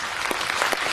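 Dense, steady audience applause at a documentary film premiere, many hands clapping continuously at a fairly loud level throughout the short stretch.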